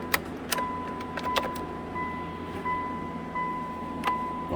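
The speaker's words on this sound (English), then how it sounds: "And I can't get the key out of the ignition." A key jiggles in the stuck ignition of a 1999 Mitsubishi Pajero, making several sharp metallic jangles and clicks over a steady chime tone inside the car, close and fairly quiet.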